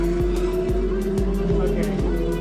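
Slot cars whine steadily around a track at a 16th-birthday race, a constant motor hum with rhythmic clicks as they pass lane joints roughly every half second, while voices talk over it.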